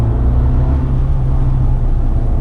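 A steady low engine drone with a deep rumble, continuous and close, as a small Abarth 595 pulls hard.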